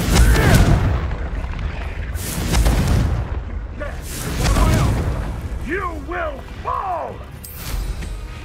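Confringo fire spell blasts in Hogwarts Legacy: loud booming bursts with rushing, crackling tails, repeated several times close up, plus swooping magical whooshes, with game sound effects throughout.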